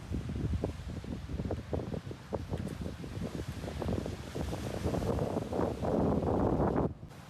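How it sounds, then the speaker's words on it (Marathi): Strong seaside wind on the Ratnagiri coast buffets the microphone in gusty, rumbling bursts, with waves faintly beneath, loud and close with no talk. "पण वारा पण तेवढाच आहे."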